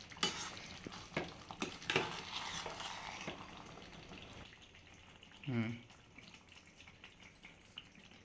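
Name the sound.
stirring Andhra-style stuffed brinjal curry in a pan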